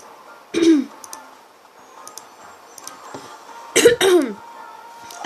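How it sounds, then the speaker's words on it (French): A man with a sore throat gives two sharp, close coughs, one early and a double one later, over a quiet background with a few faint clicks from a computer game. "Je tousse."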